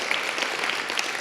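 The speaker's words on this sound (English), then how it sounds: "Let's give another round of applause for the writers." A live audience at a stage event for writers and open-mic readers claps in a dense, steady burst of applause that holds at an even level throughout.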